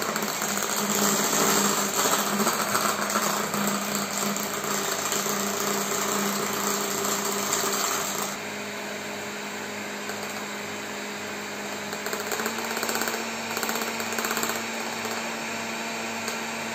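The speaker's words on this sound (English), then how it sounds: "now I will continue to mix" An electric hand mixer whirs steadily as it whips strawberry whipped cream sweetened with white sugar. The motor hum runs loud and continuous, then drops slightly in pitch and level partway through, with no talking.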